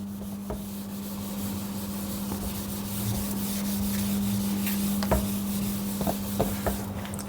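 An eraser rubs out writing in a copy notebook, making a close, continuous scratchy rubbing with a few sharper scuffs and no voices.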